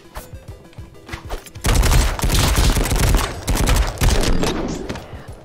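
Rapid gunfire in the violent beat-'em-up game MADNESS: Project Nexus, starting with scattered shots and then breaking into dense, loud bursts of automatic fire that continue with brief gaps.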